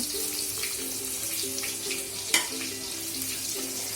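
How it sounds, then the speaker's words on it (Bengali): Chopped onions sizzle and crackle in a pan with a soft continuous hiss, a spoon clinking once partway through. "আমি পেঁয়াজ কুচিগুলো দিয়ে দিলাম এবং একসঙ্গে নাড়তে থাকবো"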